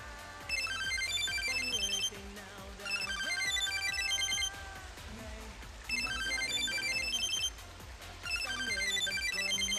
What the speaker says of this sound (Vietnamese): Em xin lỗi, em có điện thoại.